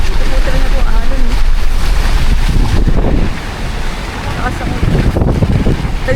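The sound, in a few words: ocean waves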